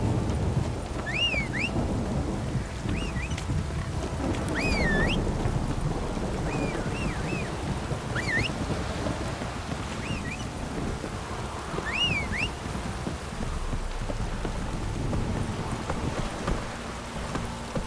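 Steady rain and low rumbling thunder in The Witcher 3 video game, a dense constant wash throughout, with several thin bird chirps sounding above it.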